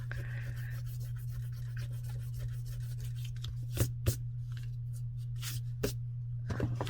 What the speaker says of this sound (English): Grab my glue eraser. Get this glue.